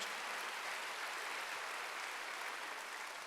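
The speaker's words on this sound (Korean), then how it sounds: "박수를 하세요" A church congregation claps during a Sunday worship service, a dense, even wash of many hands that stays steady and fairly distant for the whole stretch.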